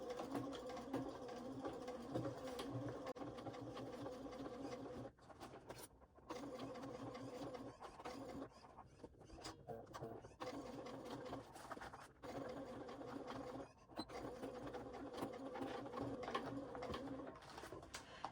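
A sewing machine stitches forward off the raw edge of a waist pack and then backstitches, a steady close mechanical whirring hum broken by a few short stops, with faint bird cooing in the background.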